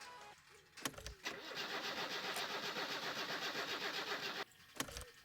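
A car engine in the My Summer Car game cranks steadily for several seconds without catching, a fast rhythmic whirring churn between clicks at either end, loud and close with no voices.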